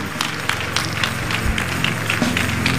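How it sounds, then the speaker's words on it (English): Audience at a birthday public lecture clapping for the Lord Jesus, a loud, dense, continuous clapping with rhythmic accents from many hands over sustained keyboard music. "please let's clap lo- our hands for the Lord Jesus"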